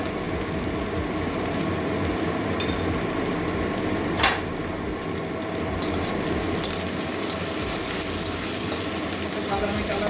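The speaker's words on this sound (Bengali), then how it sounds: "পেঁয়াজটা ভাজা হয়ে গেছে" Onion fries in a pan with a steady, moderate sizzle and faint crackle, joined by occasional scraping and clicking from stirring, close by and continuous.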